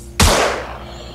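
A single loud gunshot from the turn-based strategy video game Xenonauts cracks sharply and close, then trails off in a lingering, reverberant decay, with no talking.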